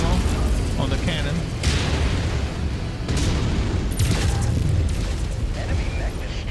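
An enemy mech blows up in the MechWarrior 5: Mercenaries video game: several loud, rumbling blasts and booms burst out over continuous heavy battle noise.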